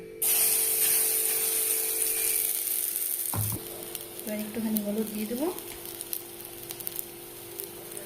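Ground, soaked yellow pea lentil paste hits hot oil in a wok with a loud, hissing sizzle that cuts off abruptly, leaving quieter spattering and stirring while a person talks.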